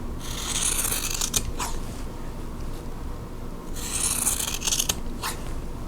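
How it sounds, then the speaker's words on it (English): Scissors snip through fabric while trimming the corners of a bowtie quilt block, coming as two close bursts of crisp cutting strokes a few seconds apart, near and alone without speech. "Trim all this. And then trim off the corners."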